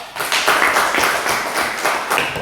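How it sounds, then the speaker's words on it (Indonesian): A small group in a classroom claps for a student group, a short bout of close, uneven handclaps with a few stronger accents, without talk. "beri tepuk tangan untuk kelompok 2"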